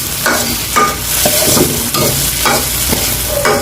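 A home-cooked dish stirred in a pan, loud rhythmic scraping strokes over a constant sizzle, with no talk.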